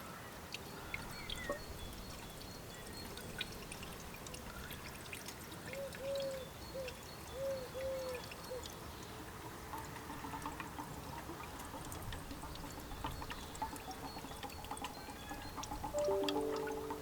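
Engine oil pouring from a container into the oil filler of a warmed-up Audi TT during a budget restoration, a soft continuous trickle and gurgle heard close and fairly quiet.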